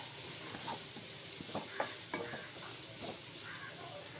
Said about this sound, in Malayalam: ഇനി ബിരിയാണിയിലേക്ക് ചേർക്കാനുള്ള സവാള നെയ്യിൽ വറുത്തെടുക്കാൻ പോവാണ്